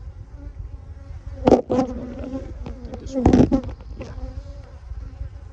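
Honey bees from a very large colony buzzing during a hive inspection, a steady close drone with two louder bursts as bees pass near, while a person speaks briefly.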